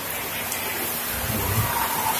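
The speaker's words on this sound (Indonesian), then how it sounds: "Ini hujan lebat." Heavy rain pours at night over an Islamic boarding school, a dense, steady roar of falling water with a low rumble beneath and no talk.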